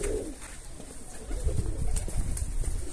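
Domestic pigeons coo softly and repeatedly close by, with low murmuring throaty calls over a steady background hiss.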